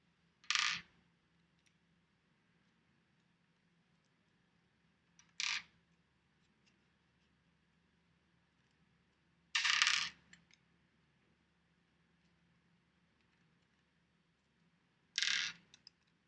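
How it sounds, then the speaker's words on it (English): An M3 ball driver removing bolts from a classifier, four separate short metallic clicks and rattles spaced several seconds apart over near silence. "I'm now going to take out the 6 bolts which hold the classifier together using this M3 ball driver."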